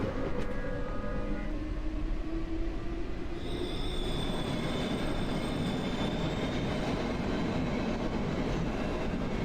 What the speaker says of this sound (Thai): รถไฟสายสิบแปดนะครับ